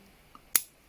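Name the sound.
trimming a ficus bonsai branch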